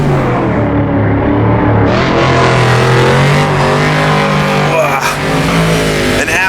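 A 1963 Corvette race car in Assetto Corsa's World Sportscar Legends mod, its loud, close engine roaring continuously as revs climb and fall through gear changes, with brief tire noise.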